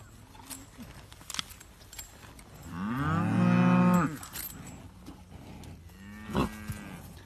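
A mother cow lets out a long, loud moo in a farm setting while her calf is being tagged, with a horse standing between her and the handler; the single bellow rises midway and is followed by a shorter low call near the end.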